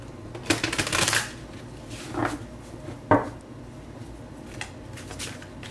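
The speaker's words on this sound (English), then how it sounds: "they want me to do another one of these shuffles" Tarot cards being shuffled by hand, with a few loud riffling bursts early on followed by softer, scattered shuffles and taps, close and alone without talk.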